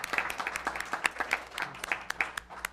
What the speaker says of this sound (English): Let's have an applause for all of these wonderful accomplishments in our district.